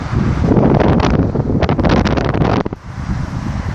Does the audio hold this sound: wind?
yes